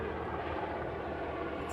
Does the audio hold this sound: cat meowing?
no